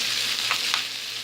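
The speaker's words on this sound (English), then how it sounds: "Now just keep stir frying it. This is on low to medium heat. The butter is melting." Chicken pieces with onion and garlic sizzle in melting butter over low to medium heat, a steady close crackle with a couple of brief louder bursts as the food is stirred, no talking.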